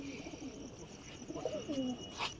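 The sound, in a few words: pigeon cooing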